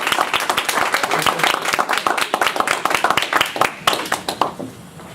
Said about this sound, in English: Please give Dennis Bartel a round of applause.